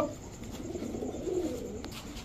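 A Kalibaga pigeon pair coos softly, with low, rolling throaty calls over a faint background hum, fairly close and fairly quiet.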